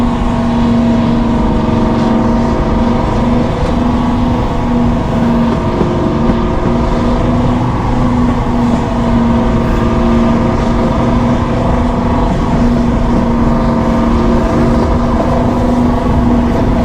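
A Class 20 diesel locomotive running on only one engine as a train passes, a loud, sustained diesel roar with a steady droning hum throughout, very close and dominant, no talking.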